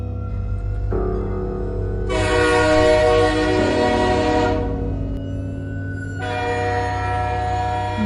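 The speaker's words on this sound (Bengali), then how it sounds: "আমি ট্রেনের হর্ন শুনতে পাই তার মানে ট্রেন আসছে" At Begunkodar railway station, a loud train horn blares in long sustained blasts, pausing briefly before sounding again, over the low rumble of the train.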